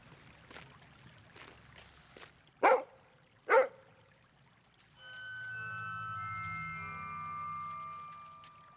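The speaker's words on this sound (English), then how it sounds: "Dog." In Lorelei and the Laser Eyes, a dog gives two sharp, close barks after a few soft taps, then a steady low wash of pouring or rumbling sound takes over.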